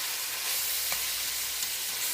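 Onion sautéing in a pan for eggplant parmesan gives a steady, close hiss of sizzling frying with a few soft stirring scrapes, and no talking.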